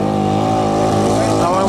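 A modified 1200-pound John Deere lawn tractor at a 2016 truck and tractor pull, its engine running loud and steady with a harmonic drone that climbs in pitch as it pulls, heard close alongside an announcer's voice.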